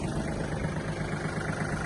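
A Kubota GT21 Japanese mini tractor engine runs at a steady idle, a continuous even mechanical drone heard close up without speech.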